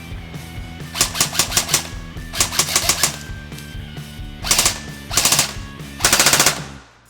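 An airsoft gun running on a 7.4 volt battery fires in about five rapid bursts, each a loud mechanical rattle with short pauses between them.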